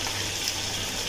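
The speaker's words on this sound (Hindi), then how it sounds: "अब मैं डालती हूँ यखनी, ये वाले 4 गिलास चावल के तो इससे यानी के नाप के डालूंगी यखनी।" Yakhni broth poured into a pot for beef pulao, a steady close liquid gush and splash running continuously without pause.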